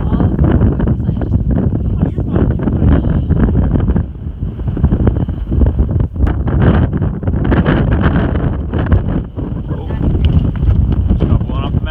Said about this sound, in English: I know, it's so windy.